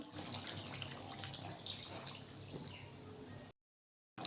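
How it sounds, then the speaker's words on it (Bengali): Water is poured from a height into a pot of simmering mutton curry with potatoes, a steady close splashing and trickling stream that runs for several seconds and then cuts to silence. "মাংস সিদ্ধ হয়ে গেছে, এখন আমি দিয়ে দিব অল্প জল।"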